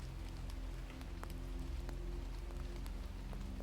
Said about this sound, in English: And now, last of all, the rain.